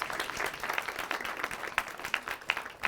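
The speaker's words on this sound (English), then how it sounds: "give them all a round of applause" Audience applause at a management lecture: a crowd claps steadily for about three seconds, dense and even with a few sharper claps standing out, heard at moderate distance.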